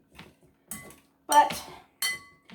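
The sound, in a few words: old school masher being used in cooking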